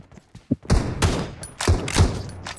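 Several loud gunshots from a Winchester 94 lever-action rifle in the mobile battle royale game BGMI, an initial soft thump then four or five sharp reports spaced about half a second apart, close and punchy.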